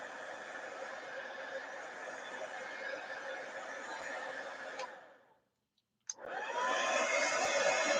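A heat gun blows steadily to dry acrylic paint on an art surface, a loud continuous broadband whoosh that cuts out for about a second and then starts again.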